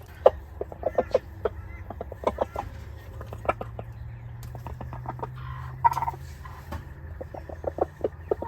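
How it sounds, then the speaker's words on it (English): Moustache the rooster, settled in a corner of the hen pen, gives a long run of soft, repeated clucks calling the hens over, close by with a steady low hum underneath. "When he first comes into the pen, he will sit in the corner and cluck and encourage the girls to come to him."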